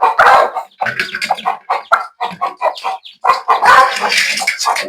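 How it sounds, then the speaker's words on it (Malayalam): Young chicks and hens cluck and chirp close by in quick, uneven bursts, loud and with no talk. "നമ്മുടെ കോഴിക്കുട്ടന്മാരാണ്."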